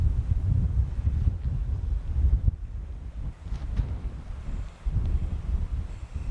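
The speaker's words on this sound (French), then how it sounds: "Il y a un vent, il y a une clim naturelle" Steady low seaside wind buffeting the microphone along the bay of Douarnenez in Brittany, a continuous rumbling rush with gusts and no voices.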